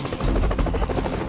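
Marine Corps helicopter of the HMX-1 squadron, rotor thudding in a steady rapid chop with a loud low engine drone, continuous and close throughout.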